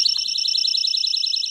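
Piercing, rapidly pulsing electronic tone from a collector's fire alarm device, a loud close buzz repeating in quick even beats throughout with nothing else heard.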